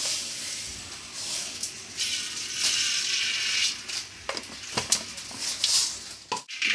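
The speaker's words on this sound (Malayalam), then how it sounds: "കടുകിട്ട് കൊടുക്കുവാണേ." Mustard seeds splutter in a little hot oil with turmeric in a cooking pot for a sprouted green gram thoran, a soft hiss broken by scattered sharp pops and crackles that grow busier toward the end, close and fairly quiet.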